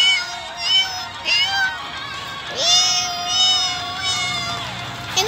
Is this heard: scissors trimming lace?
no